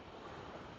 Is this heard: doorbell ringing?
no